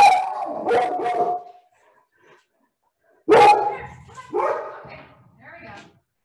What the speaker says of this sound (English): My dog is keeping me company here and she just saw something outside.